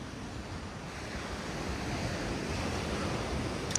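Sea waves wash steadily onto a Sochi beach by a sanatorium in the Zelenaya Roshcha area on a warm winter day, a continuous broadband surf rush with light wind noise and no voices.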